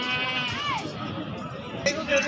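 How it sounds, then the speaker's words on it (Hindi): A goat bleats at a livestock market during sale, a wavering call rising clearly above a busy crowd murmur, with another short bleat near the end. "बहुत ही माशाल्लाह ज़बरदस्त बकरी है"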